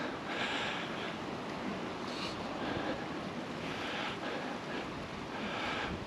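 Small choppy waves of the Adriatic Sea wash continuously near a seaside campsite, a steady broadband rush with wind buffeting the microphone, moderately quiet and without talk.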